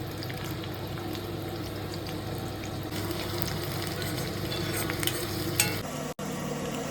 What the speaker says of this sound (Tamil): 2 ஸ்பூன் நெய் ஆட் பண்ணிட்டு பூண்டு பொன்னிறமாக ஆற வரைக்கும் நல்லா வதக்குங்க.